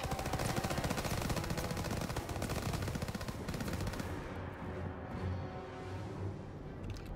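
Rapid automatic gunfire from a trench-warfare video game, loud bursts of machine-gun fire and shots filling the first half, then easing to a denser, slightly softer barrage of distant firing.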